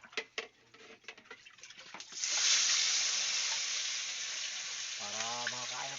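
Mud crab dropped into hot oil, setting off a sudden loud, steady sizzle after a few clicks and taps, with a voice speaking over the frying near the end.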